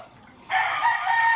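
A fighting rooster lets out a single loud crow that starts partway in after a quiet moment and holds strong and sustained to the end, close to the listener.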